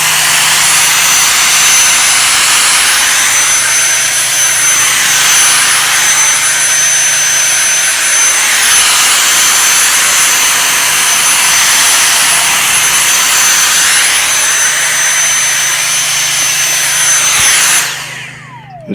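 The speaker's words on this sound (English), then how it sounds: "We'll get our little vacuum device" A small vacuum device cleaning up after low-end modifications on an inexpensive guitar: a loud, steady, close-up motor whine with a rising and falling tone, running for about eighteen seconds before shutting off at the end.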